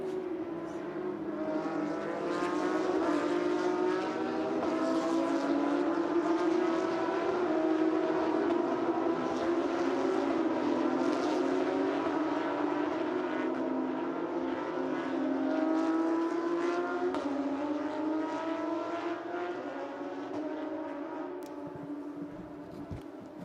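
Porsche GT3 Cup race cars circle the track at a Porsche Carrera Cup Middle East race, with several engines overlapping in sustained, rising and falling howls that swell loudest mid-pass and fade slightly at the end.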